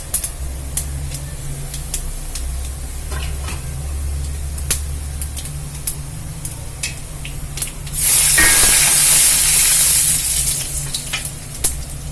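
Mustard seeds and urad dal fry in hot sesame oil. A low, quiet crackle runs along first, then a loud, hissing sizzle surges up near the end before settling back.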